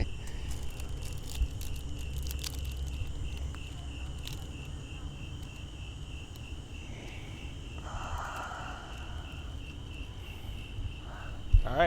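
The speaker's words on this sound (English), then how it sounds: "Those are the crickets right in there." Backyard crickets chirp steadily in a continuous high, thin trill, with low outdoor rumble and a faint passing aircraft drone underneath.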